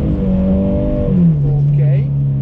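Toyota GT86 engine on a drift track, a steady near drone that climbs then settles into a held pitch, constant and loud with no clear tire squeal standing out.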